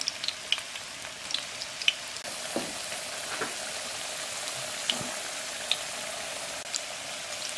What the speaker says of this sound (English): put your plantains onto the pan that you had oil on